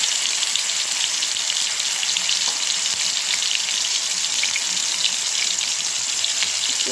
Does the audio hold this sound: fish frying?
yes